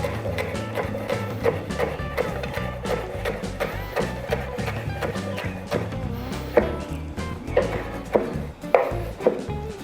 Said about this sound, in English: And then we'll just slice it right down the end.